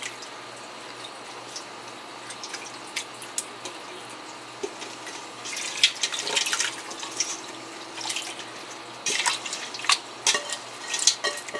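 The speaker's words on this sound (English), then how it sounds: "let's take the rest of the pot, pour that into my bandana" A pot of homemade cottage cheese is poured through a bandana into a colander, giving soft intermittent splashing and dripping of liquid, fairly quiet with no talk.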